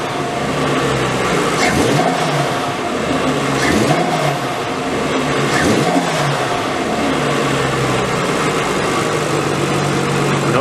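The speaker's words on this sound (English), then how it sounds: "let's see how it does when I rev it up." A Nissan RB25DET engine with stock exhaust and blow-through MAFs idles and is revved repeatedly, with three distinct rising-and-falling rev swells over a steady idle, close by and fairly subdued.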